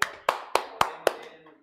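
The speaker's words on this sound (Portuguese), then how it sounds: "Vamos dar uma salva de palmas pro Thales" Five evenly spaced, sharp hand claps ring out at a steady rhythm during an online finance class session, each clap followed by a brief reverberant tail.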